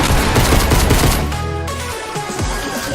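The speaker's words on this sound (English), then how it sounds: "nice SMG shots" Rapid SMG fire in a video game rattles out in a dense, continuous loud burst of overlapping shots, with game effects filling the background and no talk.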